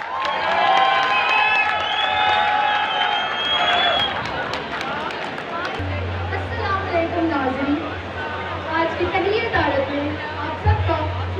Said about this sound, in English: a big round of applause for SN and Safa from IT department